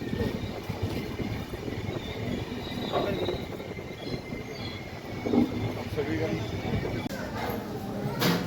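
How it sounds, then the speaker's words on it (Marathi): The 12158 Hutatma Express rumbles and rattles at the crowded Kurduwadi railway station, a steady rolling clatter of carriages under continuous nearby talking. "आपली हुतात्मा एक्सप्रेस पोहोचलेली आहे कुरुडवाडी रेल्वे स्टेशनवर"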